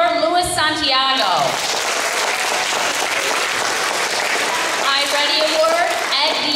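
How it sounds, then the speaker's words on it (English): A crowd of students claps steadily at a school awards ceremony, the dense applause running throughout with a voice speaking briefly over it at the start and end. "Love our students who are clapping"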